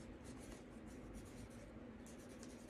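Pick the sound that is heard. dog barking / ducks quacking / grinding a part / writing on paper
writing on paper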